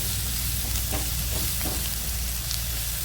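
Curry leaves hiss and crackle as they hit a hot pan of oil, a steady close sizzle with a few sharper pops and a faint stir.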